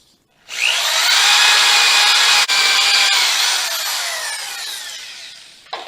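A power drill bores a hole through wood for a birdhouse entrance, a loud close whine that spins up, holds steady with one brief dip, then slowly drops in pitch and cuts off, with no talking.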